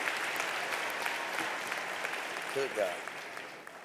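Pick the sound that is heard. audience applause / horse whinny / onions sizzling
audience applause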